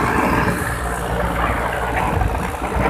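Sonalika DI 50 tractor pulling a double harrow (front 8-8, rear 7-7) in a village field, its diesel engine a steady, loud, close-up drone with deep low thumping and no pauses.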